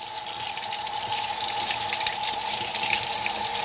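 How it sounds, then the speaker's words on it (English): Kitchen tap water runs steadily and splashes into a sink as kitchen items are rinsed, a close, continuous gushing sound. "let me give these a rinse off"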